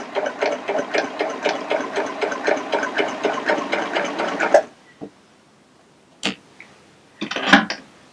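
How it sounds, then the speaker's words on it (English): A Baby Lock Applaud cover stitch serger sews a decorative cover hem over two cords, running in a rapid rhythmic mechanical patter for about four and a half seconds, then stopping with a few isolated clicks and knocks. "that center needle is going to stitch right between the 2 cords"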